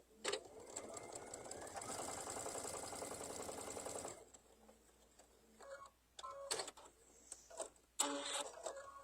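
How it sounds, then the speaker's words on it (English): A sewing machine stitches quilt pieces for a cactus flower table topper, running in a fast, even mechanical chatter for about four seconds, then falling quiet except for a few scattered clicks and handling noises. "So we're going to sew that together."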